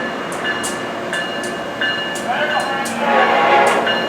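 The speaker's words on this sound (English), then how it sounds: "we'll be having a nice photo run-by here as the train goes by" An Amtrak AEM-7 electric locomotive train passes the station at Halethorpe, Maryland, its rumble and rail noise building steadily, with faint tonal whines and a few sharp clicks along the way.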